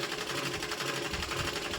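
Sewing machine stitching a blouse, a rapid steady whirring rattle of the needle running continuously at close range.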